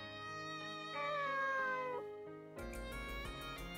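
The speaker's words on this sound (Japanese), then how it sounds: "ああ、この猫ちゃん？" A cat meows in the video game Nights of Azure, a clear drawn-out meow with a falling pitch, heard alone over soft game music.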